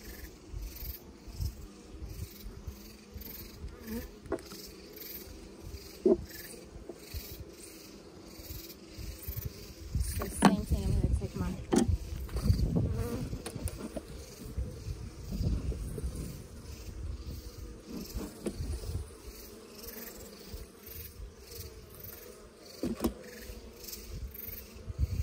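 Honeybees buzz in a weak top-bar hive with suspected queen or food problems, a steady soft drone of many insects with a few louder passes close by, swelling in the middle.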